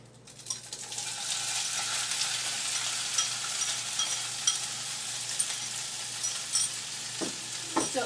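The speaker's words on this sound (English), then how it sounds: "I'm gonna go ahead and just put the tofu in the pan and let that cook out a little bit." Tofu sizzling and frying in a hot oiled pan for a tofu scramble, a steady close hiss with a few scraping stirs and clinks near the end, no talking.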